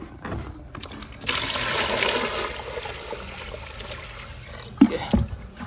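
Water is scooped and poured for setting up a fish tub, a soft broadband splashing that swells and holds for a couple of seconds, then fades into a quieter trickle, with a few close knocks near the end.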